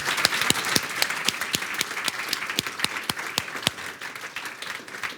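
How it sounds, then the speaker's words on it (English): Audience applause for a panel of speakers at a policy discussion event, steady clapping from a room full of people with sharp individual claps standing out, moderately loud and sustained throughout. "please join me in applauding these gentlemen for their thoughts"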